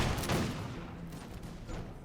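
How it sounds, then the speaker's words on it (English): Colonial militia muskets fire a ragged volley in a American Revolution strategy game, a dense cluster of overlapping gunshots up front followed by scattered trailing shots and echo. "Very good volley by the colonial militia."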